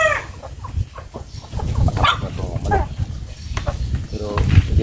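Farm chickens clucking around feeding time, several birds close by with busy overlapping clucks while a person talks over them throughout.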